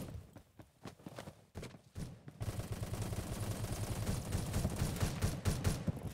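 Gunfire in the first-person shooter Phantom Forces: a few scattered single shots, then from about two seconds a loud, dense burst of rapid automatic fire that runs on continuously.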